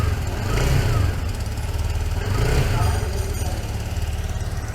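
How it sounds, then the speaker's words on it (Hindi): A TVS Jupiter 125 scooter engine runs at idle, then is revved twice in rising swells, loud and close, with a steady low drone between the surges. "अपन लोग 125 को सबसे पहले स्टार्ट करते हैं, तो आइडल पे कुछ इस तरह का साउंड आता है"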